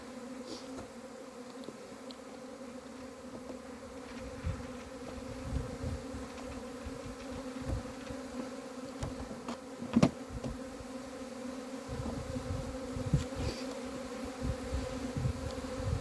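Honey bees buzzing steadily inside an opened hive being prepared for queenless splits, a dense continuous drone close by with occasional brief knocks, no voices.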